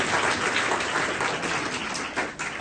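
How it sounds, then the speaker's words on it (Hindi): A crowd at a young voters' political conference in Lucknow bursts into loud, continuous applause, a thick wash of many hands clapping with no voices above it, dipping briefly near the end. "एक बार इनके लिए भी तालियां होनी चाहिए।"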